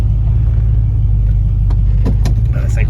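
The engine of a Buick Riviera Boattail idles with a loud, steady low rumble after its carburetor and ignition have been adjusted. A few clicks and light rattles come in near the end.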